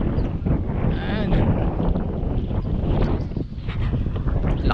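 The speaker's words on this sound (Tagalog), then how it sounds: "Lakas ng hangin." Strong wind buffets the microphone in a steady, loud roar with rumbling gusts, mixed with what sounds like water and a boat nearby, in Australia.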